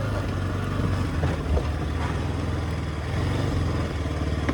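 A new four-wheeler ATV engine idles steadily up close while being parked, a continuous low rumbling drone that holds even in loudness throughout with no voices.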